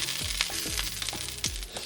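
Pork chops fry in a skillet with a steady bright sizzle, broken by a few soft clinks and scrapes, close and even throughout.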